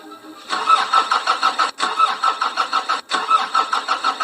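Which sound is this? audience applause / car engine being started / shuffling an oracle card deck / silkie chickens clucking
car engine being started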